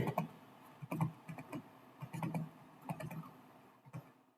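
Keys on a computer keyboard being typed in quick bursts while working in an Excel spreadsheet, close and fairly quiet, with brief pauses between clusters of clicks and no talk.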